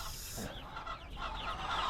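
A flock of chickens, a fourth batch of birds kept in a pen, cluck and murmur in overlapping calls, moderately faint and continuous.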